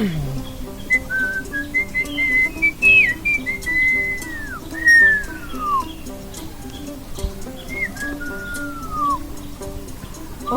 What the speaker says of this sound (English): So, upstairs, please whistle to call your uncle.